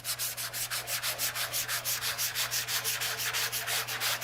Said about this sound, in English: we'll go ahead and grab our sandpaper and we'll start sanding our capsule and our body